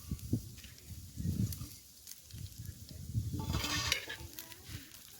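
Coriander seeds, red chillies and garlic roast for a masala in a pan over a wood-fired stove, with faint sizzling and soft stirring and scraping scuffs under a low background.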